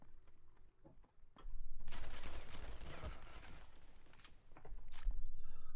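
Pistol gunfire in a video game duel during a 2v2 tournament match, with a dense burst of shots that holds for several seconds, drops briefly, then resumes loud toward the end.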